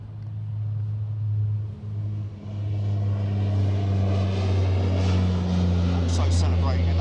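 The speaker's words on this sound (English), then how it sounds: "it's a military plane" A military plane passes overhead at an air show marking an aircraft maker's anniversary. Its low, droning engine rumble holds steady for seven seconds, swelling slightly toward the end, while people talk underneath.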